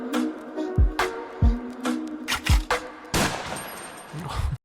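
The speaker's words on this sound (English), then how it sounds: "Gunshot at the end, as always," A voice beatboxes a gunshot to close a yodel beatbox track: a loud, broad burst with a noisy tail near the end, following a run of punchy kick and snare hits.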